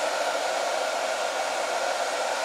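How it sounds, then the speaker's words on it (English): A handheld blow dryer runs nearby in one steady, loud airy whoosh, heating a dbrand vinyl skin as it is applied, with no speech. "you want to complete it with the blow dryer"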